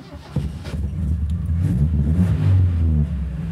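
A 1980s car engine cranks and catches, then idles and revs with a deep, steady rumble close by during engine tuning.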